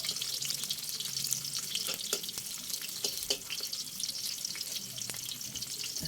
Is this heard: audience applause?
no